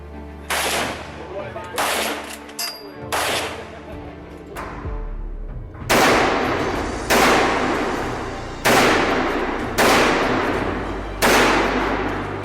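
A Lee-Enfield bolt-action rifle fires about nine loud, sharp shots at a steady pace of roughly one every second and a quarter, each crack trailing off in a short echo.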